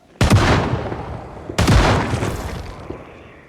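Two loud booming shotgun blasts from an M500 in the zombie survival game Project Zomboid, about a second and a half apart, each with a long decaying tail and no talk over them.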